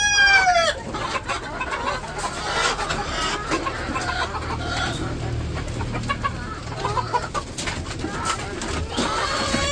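Hens on a Bangladeshi village poultry farm cluck busily all through, with a rooster-like call and some bird chatter mixed in, fairly close and loud, and faint voices in the background.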